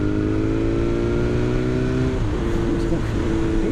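A 2021 BMW S1000R inline four-cylinder motorcycle engine revs steadily with a smooth, high-pitched buzzing hum, the pitch easing down partway through, loud and close.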